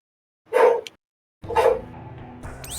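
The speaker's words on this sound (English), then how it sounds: "I heard barking." Two loud dog barks from a Final Fantasy 7: Crisis Core game, sharp and close with a pause between them, the second trailing into a lingering hum.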